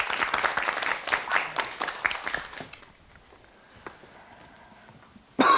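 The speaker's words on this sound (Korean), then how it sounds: "여러분 박수 부탁드립니다." A Korean television studio audience bursts into applause for a storyteller, a lively clatter of hands for about three seconds that thins out abruptly into a quiet room before a sharp noise at the very end.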